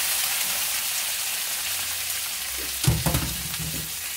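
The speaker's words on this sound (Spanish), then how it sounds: "voy a agregar los chiles, a darles igual una tostadita muy, muy rápida, cuidando que no se te vayan a quemar." Dried chiles hit hot oil in a pan for salsa macha, starting as a faint steady hiss, then bursting into a brief loud crackling sizzle near the end, with no talking.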